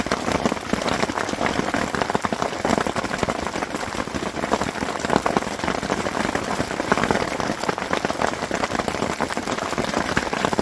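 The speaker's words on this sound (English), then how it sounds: "There's a lot of hail in that" Quarter-inch hailstones fall hard and continuously, a loud, dense patter and rattle of hail hitting the ground and nearby surfaces with no break.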